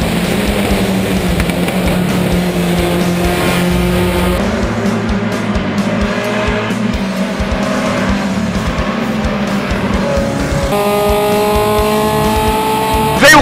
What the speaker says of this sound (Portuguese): Ruslan Carta, número 69, e Ale Souza, número 171, num belíssimo duelo, valendo a segunda posição